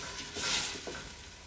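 A garlic clove frying for a homemade sauce, stirred around a hot pan: a close, bright sizzle swelling briefly as it is mixed, then settling, with no voices.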